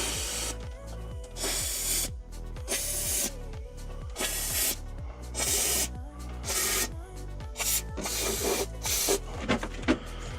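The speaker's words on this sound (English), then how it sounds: "very important to spray this in all cavities of the car" Repeated bursts of hissing spray as cavity wax is sprayed into the body cavities of a Mini Cooper S Cabrio, starting and stopping in an irregular rhythm, close by over a low mechanical buzz.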